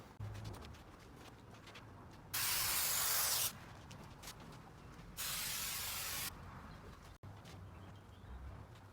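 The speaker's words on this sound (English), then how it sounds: "now I'm just going to go ahead and spray that glue on" Two separate bursts of hissing aerosol glue spray, each about a second long, applied to a Porsche 981 Boxster door trim, with quiet room sounds between them.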